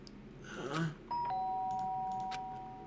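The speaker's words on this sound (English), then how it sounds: "The sharp sound of the doorbell pierced my sleepy haze" A two-tone electronic doorbell chimes once in the video game Danganronpa: Trigger Happy Havoc, clear and close, its second tone ringing out and sustaining before slowly fading.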